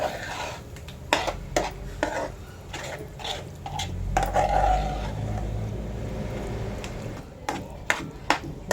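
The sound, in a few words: mixing salt, chilli, fenugreek and mustard powder into pumpkin chutney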